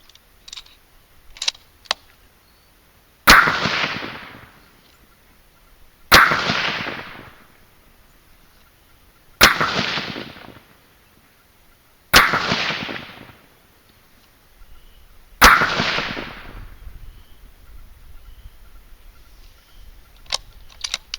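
.220 Swift rifle firing 55-grain V-Max loads over Winchester 760 powder: five sharp, loud shots spaced about three seconds apart, each with a short ringing decay, with faint clicks and handling noise between them.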